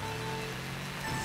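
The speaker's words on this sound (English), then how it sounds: "Oh shit, and it's raining too." Steady rain in the Neo Bowser City track of Mario Kart 8, a soft continuous hiss of falling drops under the game's music, fairly quiet and unbroken throughout.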